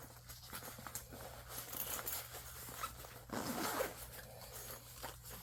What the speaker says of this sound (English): to put it back up, you just zip it.